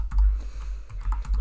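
Rapid typing on a computer keyboard, a quick run of close, soft key clicks in an irregular rhythm.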